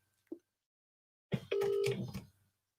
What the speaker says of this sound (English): Let me try and get you back on the phone.